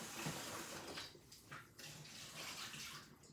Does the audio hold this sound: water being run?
yes